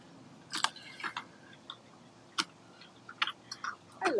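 A wildcat chews and crunches on food close by, with a scatter of short, sharp crunching bites spaced irregularly over a few seconds against a quiet background.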